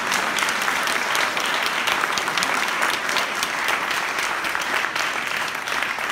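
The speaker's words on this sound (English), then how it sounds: "Can we give them just an amazing round of applause?" A church congregation applauds the church trustees with a full, continuous roar of clapping that stays steady and loud throughout, with no talk over it.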